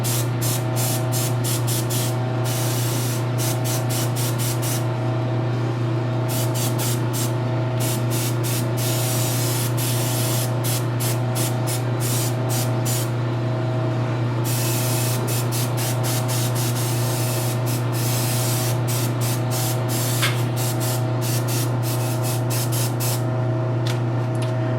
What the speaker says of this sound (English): maybe where I have to push the airbrush, because sometimes if you spray an item